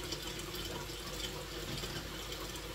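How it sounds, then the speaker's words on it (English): Water runs steadily into a cooking pot being filled halfway for a boiling-water canning bath, a continuous close gushing rush with no pauses and no talk. "And so I filled the pot up halfway with water."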